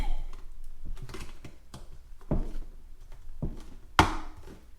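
Screwdriver prying the lid off a plastic bucket: a string of sharp plastic clicks, cracks and snaps at uneven intervals, close up, ending in one louder pop.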